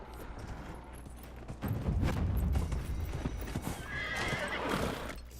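A horse gallops in the video game Dragon Age: Inquisition: steady, close hoofbeats in a rolling rhythm with a whinny, over an ambient game background.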